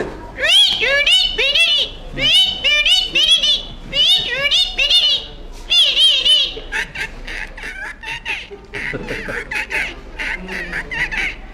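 A forest guard mimics a parrot with a series of shrill, squawking, warbled calls in short bursts, then switches to rapid clucking-like sounds.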